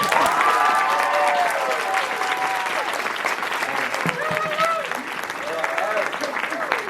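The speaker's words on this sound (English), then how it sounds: "Can we get one more round of applause for our wonderful..." Audience applause after a youth play production of The Lion, the Witch, and the Wardrobe, a sustained round of clapping with scattered cheers and voices calling out across the room.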